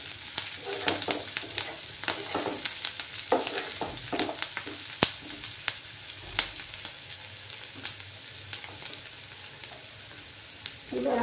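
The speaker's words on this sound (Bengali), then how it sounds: "একটু ব্রাউন করে পেঁয়াজগুলোকে আমি ভেজে নেব।" Onions frying in a pan until browned, a steady close sizzle with frequent sharp crackles and pops and the occasional scrape of stirring, no voices.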